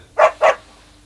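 A dog barks twice in quick succession, close and fairly loud, against a quiet background.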